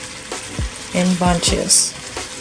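Collard greens sizzle and fry in a hot pan while being stirred in bunches, with scraping utensil strokes and crackling over a brief spoken phrase.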